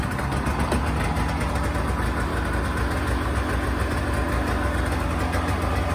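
A Polaris 488 ice-racing snowmobile with picks on the track runs steadily just after starting, a loud continuous buzzy two-stroke drone held close for several seconds with no voices.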